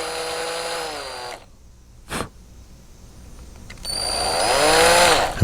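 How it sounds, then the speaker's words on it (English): A small power drill bores material out of a 1/18 Sun Star model car wheel to make room for a brass rod. Two close, whining bursts sit on either side of a quiet gap broken by one brief tap. "what I'm doing is just trying to drill some material out of that so we can get the brass rod in there"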